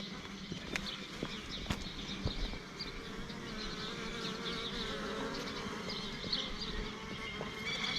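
Honey bees buzz around a hive in a garden bush beside a street, a dense, steady close swarm hum with occasional individual bees passing near.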